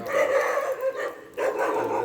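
A dog barks in a few short, loud bursts close by, with a brief pause between groups of barks and no talking over it.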